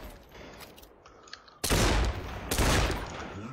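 Bursts of rapid automatic gunfire ring out loud and close in the Sandbox video game, two sustained volleys after a quieter stretch of faint game sounds.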